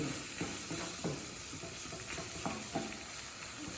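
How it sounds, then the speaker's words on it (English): Meat pie filling fries in a pan as flour is stirred through it, with repeated scraping strokes and soft clacks over a constant sizzle, close by and without talk. "More flour, give it a stir."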